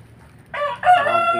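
A Rhode Island Red rooster crows once, close and loud, its call rising after a faint start and holding a strained, harmonic tone to the end of the short clip.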